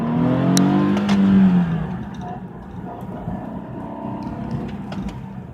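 A smart car's little 3-cylinder engine accelerating at full throttle, a rising strained drone that is loudest at the start, then settles into a steady rough hum as the car keeps pulling.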